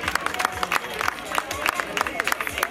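Audience applause and cheering at a cross-country race podium ceremony in Lodosa, a short burst of clapping from the crowd with chatter mixed in.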